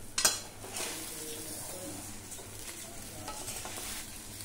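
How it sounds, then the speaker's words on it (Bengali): Sugar being stirred into raw mango pickle in a pan, a low scraping stir under a soft sizzle, with a sharp clatter near the start and quieter utensil scrapes later. "চিনিটা খুব ভালো করে মিশিয়ে নেব"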